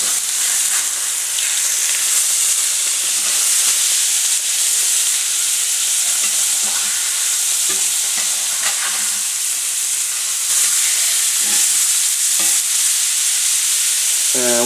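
Blackened catfish fillets fry in a pan, giving a loud, continuous sizzle and hiss with occasional soft stirring or shifting sounds, no voices.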